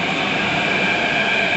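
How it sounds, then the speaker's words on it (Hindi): A Mumbai metro train pulls into the station with a steady loud rolling rumble and a high whine from the wheels and motors, and no voices. "तो अभी यहाँ पर मेट्रो आने वाली आ गई है।"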